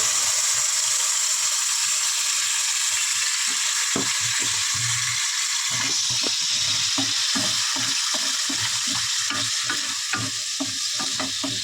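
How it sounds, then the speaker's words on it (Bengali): Ground cumin and chili masala sautéed in a pan with a splash of water for a chicken dish, a steady close sizzle with rhythmic scraping stir strokes that quicken in the second half. "দেখো ভালো করে কষিয়ে নেবো কষে নিয়েছি মশলা"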